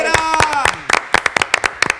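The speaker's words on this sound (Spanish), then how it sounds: "Fuerte aplauso para la Morelera" A studio audience at an Argentine live-streamed variety show bursts into scattered clapping, sharp close claps layered over an excited voice speaking loudly throughout.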